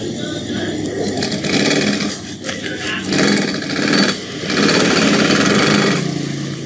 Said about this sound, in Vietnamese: Đó là may hai lớp bao nha.